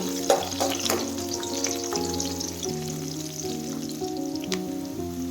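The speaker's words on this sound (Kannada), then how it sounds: "ನಾನು ಸ್ವಲ್ಪ ಚಣಗಿ ಬೇಳೆ ಹಾಕ್ತೀನಿ ರೀ ಇವಾಗ ಅರ್ಧ ಉಳ್ಳಾಗಡ್ಡಿ ರೀ ಸ್ವಲ್ಪ ಫ್ರೈ ಆಗಬೇಕು" Chana dal and onion fry in a pan for a spinach palya, a steady close sizzle with light stirring clicks running under background music.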